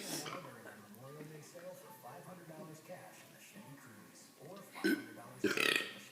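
A burp from a brother bursts out in two short loud blasts near the end, after several seconds of people talking and laughing.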